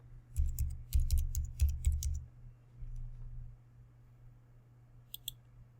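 Fingers type on a computer keyboard in a quick burst of crisp, close key clicks for about two seconds, then a pause, then a couple of final taps.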